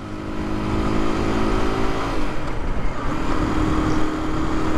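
Busy city street traffic heard from a moving Aprilia motorcycle, a steady close engine drone with wind noise and the rumble of surrounding cars.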